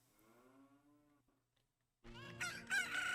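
Chicken crowing in The Legend of Zelda: Ocarina of Time, a loud bright cock-a-doodle-doo bursting in after a faint hum and a brief near-silent pause.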